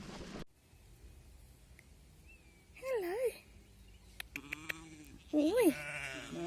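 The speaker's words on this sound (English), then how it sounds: "Loads of sheep in it." Sheep on a big green hillside bleating in two clear wavering calls, fairly close, with outdoor quiet between them and a person speaking briefly at the start.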